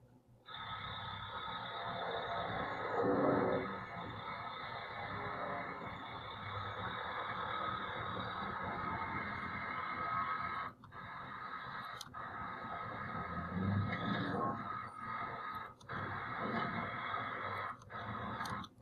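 Street background ambience with cars: a continuous low rumble of engines and passing traffic, with a truck-like idling drone and a few sharp clanks of loading, steady and moderately distant.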